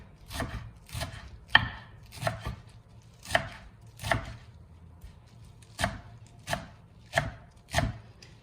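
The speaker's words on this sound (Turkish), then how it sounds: "Nane ve maydanozunu doğruyorum." A knife chops mint and parsley on a cutting board in a series of quick, crisp strikes, irregularly spaced, close and fairly quiet.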